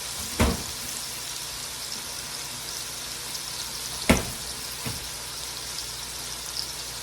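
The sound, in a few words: leeks cooking down in a pot for Zuppa Toscana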